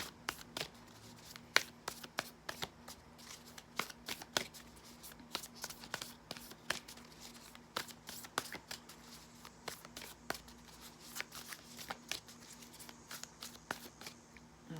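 Tarot cards riffle and snap in quick repeated bursts, soft and close, with pauses between shuffles and a faint hum underneath.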